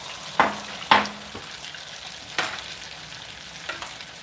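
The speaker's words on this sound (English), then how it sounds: "And so I am frying it in my kitchen." Food with added egg batter deep-frying in a home kitchen fryer: a steady, close sizzle and hiss, punctuated by a few sharp clattering knocks as pieces drop in.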